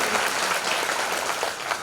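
Audience applause at a religious Bhagavat katha gathering, a brief dense burst of clapping from a crowd, steady and moderately loud throughout.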